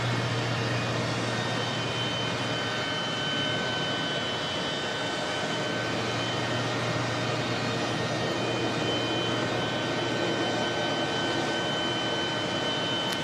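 Steady, continuous roar of an airliner's jet engines as flight NZ284 to Singapore pushes back at Auckland Airport, heard from a distance with an even, unbroken drone throughout and no talking.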